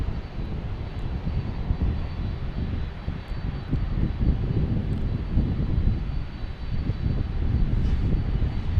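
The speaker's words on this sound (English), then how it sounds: "next taking off is a JetBlue heading to JFK and A220" A JetBlue Airbus A220 taking off at Boston Logan for JFK gives a steady, moderately loud low engine rumble with a gritty texture, heard alone without speech.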